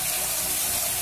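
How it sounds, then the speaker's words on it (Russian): Water pours steadily from a stone fish-mouth fountain in a castle courtyard, a continuous close splashing stream with no voices. "Рыба, рыбья пасть, из которой течет фонтан."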